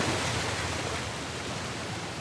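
A waterfall in the video game Uncharted: The Lost Legacy roars as a steady, dense, hissing rush of falling water, loud and unbroken throughout with no voices.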